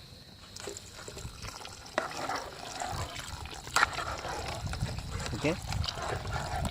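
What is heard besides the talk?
water poured into potato kurma pot over campfire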